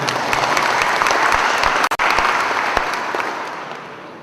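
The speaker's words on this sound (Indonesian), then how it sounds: "Kita berikan aplaus kepada Pak Kakuatas." Audience applause at the opening ceremony of a Scout regional council assembly in Aceh, a steady, dense wash of clapping hands that holds throughout, with a brief dip midway and a gradual fade toward the end.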